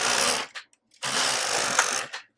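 A home knitting machine carriage drawn across yarn on the needle bed, two loud mechanical passes of rushing, clattering sound separated by a brief pause, each ending with a short rattle.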